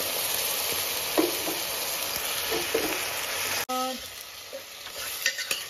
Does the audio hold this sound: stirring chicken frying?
yes